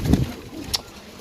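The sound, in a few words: pigeons cooing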